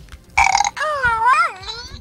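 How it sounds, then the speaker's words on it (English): A Furby Furblet mini electronic plush toy lets out a loud, close, synthetic burp lasting about a second, followed by a warbling electronic voice sound. "I told you they're Furby burping babies."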